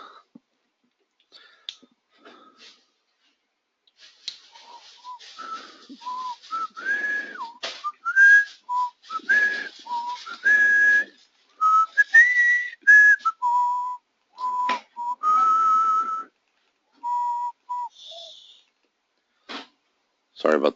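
A person whistling a wandering, halting tune near the microphone, short bright phrases with pauses, mixed with clicks and a few snaps, spread over about twenty seconds.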